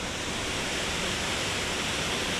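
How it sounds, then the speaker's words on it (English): Rushing water of the upper waterfalls at Old Man's Cave during a dry week, a steady dense broadband roar that holds loud and even throughout with no voices over it. "the upper waterfalls,"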